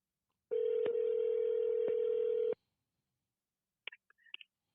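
A telephone rings with a steady electronic tone for about two seconds, then goes silent, followed by a few faint clicks and short beeps.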